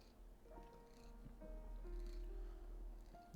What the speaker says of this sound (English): You're probably gonna hear a lot of purring now.